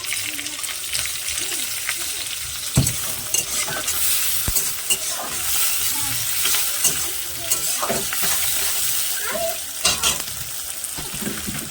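Prawns fry with garlic, onion and green chilli in a loud, busy sizzle, with frequent spatula stirring and a few sharp clanks against the pan.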